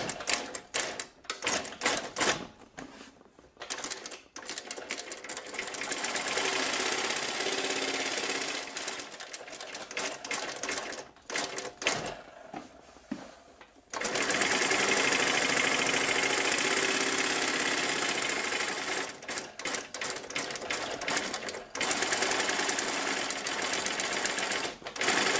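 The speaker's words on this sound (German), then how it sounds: "Das ist da, wo das Seitenteil in den Rücken übergeht und deswegen nähe ich die doppelt." Leather school satchel being double-stitched on a sewing machine where the side panel joins the back, a loud steady mechanical whirr in long runs broken by short pauses and stops, with no talking.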